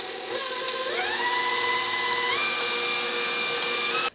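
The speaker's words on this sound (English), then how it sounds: "I'm going to add the egg yolks, eggs, and sugar into my bowl of an electric mixer fitted with a whisk attachment" An electric stand mixer fitted with a whisk beats eggs, egg yolks and sugar for sponge cake, a steady close motor whine that shifts upward in pitch twice as the speed rises, then cuts off at the end.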